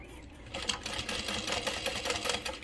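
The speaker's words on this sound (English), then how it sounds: "I'm just gonna baste it on at 1/4 of an inch" A sewing machine basting a quarter-inch seam on a travel bag panel, running in a fast continuous rattling stitch close by after a brief quiet start.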